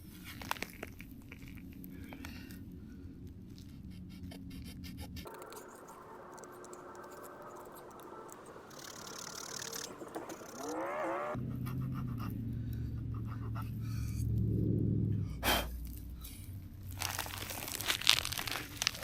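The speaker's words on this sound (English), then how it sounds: "Okay, so I've cut in a notch into that socket." A knife carves a V notch into a wooden bow drill socket outdoors, producing close, steady scraping and crunching as the blade works the wood, broken into separate stretches of cutting.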